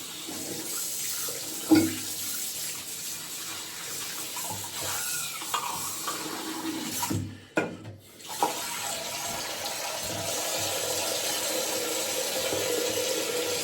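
A tap runs steadily into a sink as water is readied for a wet shave, a quiet continuous hiss with a brief dip partway through and no talking.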